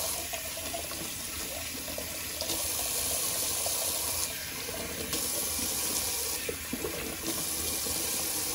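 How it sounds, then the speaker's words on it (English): A tap runs steadily into a bathroom sink, rinsing out whisker stubble after shaving, a constant close splashing rush of water with no talking. "Let me just rinse out my sink"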